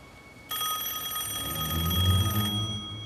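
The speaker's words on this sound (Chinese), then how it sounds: "肯定是老爷电话" An old-style telephone bell rings in a home, a bright, loud trill that starts abruptly and holds for about two seconds before cutting off, with a low hum swelling underneath.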